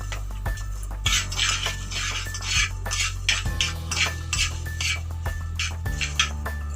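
Fenugreek seeds and whole dried red chilies dry-roasting in a pan, heard as repeated close scraping and stirring strokes with metallic clinks of utensil against the pan in an irregular rhythm, no voices.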